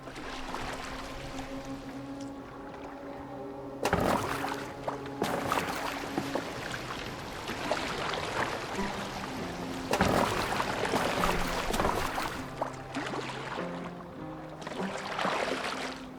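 A boat moving through water in Assassin's Creed Valhalla, a continuous wash of splashing and lapping with occasional louder surges, heard under a steady tonal music bed.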